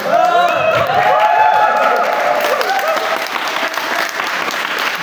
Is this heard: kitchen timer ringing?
no